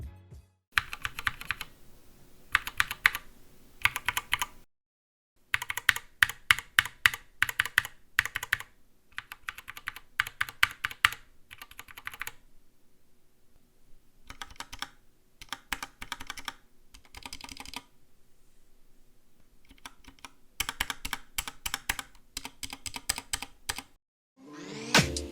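Typing on an SK61 mechanical keyboard fitted with Gateron Brown switches, recorded close, comes in bursts of rapid tactile clacks separated by short pauses, clear and alone without speech.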